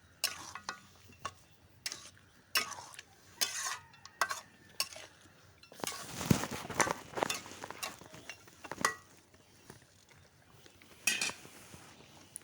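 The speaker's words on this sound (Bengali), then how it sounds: "এই তো দেখো আবারও আমি মাংসটার সাথে আলুটা ভালো করে কষিয়ে নিতেছি" Potatoes and chicken pieces for a spicy village-style chicken curry stir-fried in a pot, heard as intermittent scraping and clinking of a spoon against the metal, brief knocks spaced apart with a denser burst of stirring midway.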